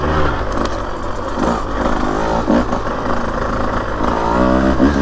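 A Husqvarna TE150 dirt bike on a trail, its small two-stroke engine revving up close and loud, then stuttering and breaking up as it reaches the top of its range.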